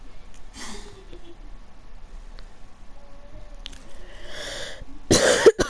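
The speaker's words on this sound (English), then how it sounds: "Sorry if I cough a lot through the stream," Several coughs stand out against a quiet background: a short cough near the start, a faint one midway, another around four seconds, then a loud, harsh, close cough burst near the end.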